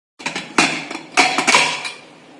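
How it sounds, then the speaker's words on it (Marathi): A pressure cooker being lifted off a gas stove after cooking dal, rice and vegetables for a thali, giving several sharp metallic clanks and scrapes of pot on burner grate, close and loud, with no talk. "आणि कुकर काढून घेऊया तिकडं."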